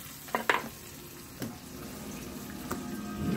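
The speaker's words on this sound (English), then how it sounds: "I got my veggie stir frying here." Vegetables stir-fry in a pan with a soft, steady sizzle, broken by a few light clicks and scrapes of stirring, fairly faint overall with no voices.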